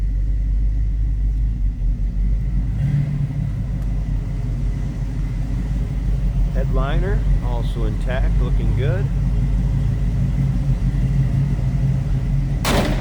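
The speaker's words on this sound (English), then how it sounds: "Nice throaty exhaust note with this one." A 1973 Chevrolet Camaro Type LT with automatic transmission idles with a deep, throaty exhaust rumble that holds steady the whole time, while someone talks over it.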